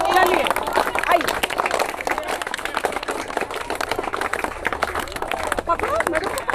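An audience claps steadily through a school farewell and felicitation ceremony for a departing teacher, a dense run of hand claps mixed with voices and chatter throughout.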